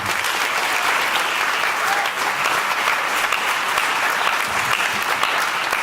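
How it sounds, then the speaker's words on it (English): An audience at a graduation ceremony gives sustained, dense applause, loud and even from start to finish with no break. "With a warm Albizu Campos round of applause"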